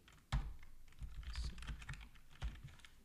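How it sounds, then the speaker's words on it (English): Computer keyboard typing, close and quiet: a few distinct key clicks and a quick cluster of taps, with no voices. "And you type in LP."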